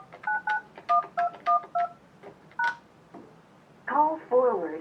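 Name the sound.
telephone keypad DTMF tones while dialing an extension on Yealink T33G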